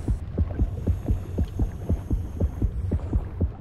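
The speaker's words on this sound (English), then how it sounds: "I hear the heartbeat, but I don't know where they are." Heartbeat warning that signals an approaching shark in the underwater video game Depth: steady, deep double thumps repeating about twice per second over a low droning hum, close and loud, with no talk.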